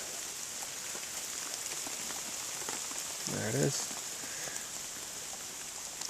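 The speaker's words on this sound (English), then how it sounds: "it's raining, and it downpoured on us for a good 5 minutes" Steady rain falls on a muddy fall food plot, a continuous close hiss of drops throughout, with a brief spoken remark partway through.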